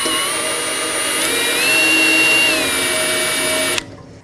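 A power drill with a larger bit bores into metal while an oil pan gasket is replaced on a Chevrolet Express van, a loud, steady whining whir that rises slightly in pitch midway, then cuts off abruptly.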